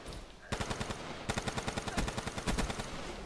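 Rapid automatic gunfire in an online video game, a tight burst of evenly spaced shots that stops briefly and then resumes in a longer rattling string, fairly quiet and slightly distant.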